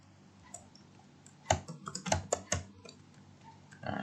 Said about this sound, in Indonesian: Nah, ini kita ketik ya.